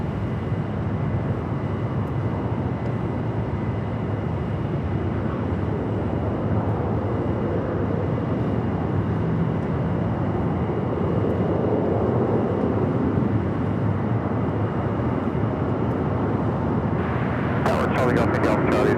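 A Delta airliner takes off from runway 25 right at Phoenix Sky Harbor, a steady distant jet roar swelling slowly, with a clicking burst near the end.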